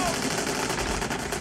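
Sustained gunfire in a war film set during an ambush by a Viet Cong sniper, a dense, loud barrage of rapid machine-gun and rifle shots running throughout with faint voices mixed under the shooting.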